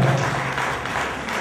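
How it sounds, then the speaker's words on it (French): A crowd at a cultural evening for the New York, New Jersey and Connecticut community applauds a dignitary with a brief, dense wash of clapping over a low hum. "Il faut l'applaudir très fort."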